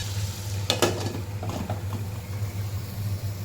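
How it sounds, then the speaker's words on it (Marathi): Snake gourd (padwal) stir-fried in a pan with a little water: a low steady hiss under a couple of sharp spatula scrapes and clinks early on, then softer stirring noises, close, with no talking. "हे आता पडवळ पाण्यात टाकून घेऊया व्यवस्थित परतून घेऊया"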